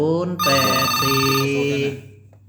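A telephone rings with a bright, loud, sustained electronic ringtone that cuts off near the end, leaving a brief quiet moment before another sound begins.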